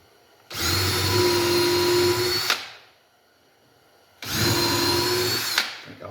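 Power drill driving screws into a wooden Langstroth beehive, two loud sustained whirring bursts of about two and three seconds each with a short gap between, close up.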